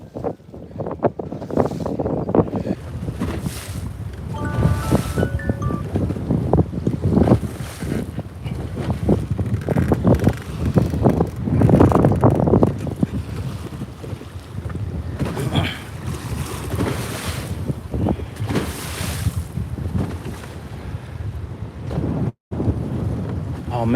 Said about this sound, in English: That's a gust of wind about to hit me right now.